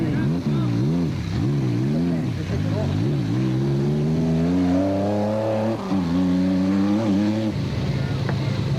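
Race cars, including a Nissan, run the muddy Sugarbelt 400 rally of 2001. Engine notes rise and fall as they rev and pass close by, loud and continuous, with a commentator talking over them.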